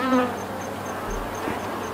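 Honey bees buzzing steadily at an active beehive where comb is being built, a dense close hum filling the whole moment with no talking.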